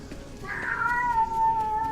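A pet cat gives a single drawn-out meow, rising then holding a steady pitch, close and clear over a faint background of video game sound in a speedrun of Octopath Traveler.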